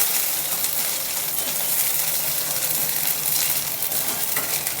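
Curry leaves sizzling as they fry in a pan while pasta is being cooked, a loud, steady, bright crackling hiss that runs continuously and close up with no talking.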